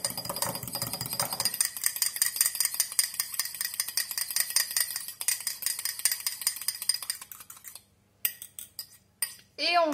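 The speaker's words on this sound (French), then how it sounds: "On bat le jaune" A fork rapidly beats egg yolk in a bowl, giving fast, even metallic clinking and whisking for about eight seconds before it stops. A few separate clinks follow.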